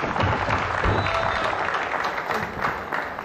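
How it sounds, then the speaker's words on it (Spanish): A crowd applauds with steady, dense clapping that continues evenly throughout. "Rosa, fuerte el aplauso para ella."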